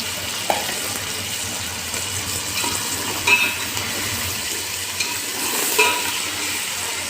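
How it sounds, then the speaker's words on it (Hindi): Chicken fries in a pot with garlic ginger paste and green chillies for a Karachi-style chicken biryani, giving a steady hissing sizzle with occasional scrapes and clinks from stirring. "इसको हल्का सा फ्राई करना है"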